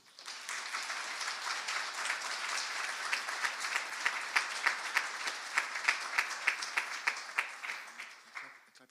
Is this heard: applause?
yes